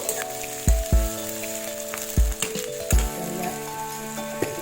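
Onions dropped into a hot pan for an Assamese crab fry, a close bright sizzle with several dull thuds as pieces land and a steady hum from a kitchen appliance underneath, no talking.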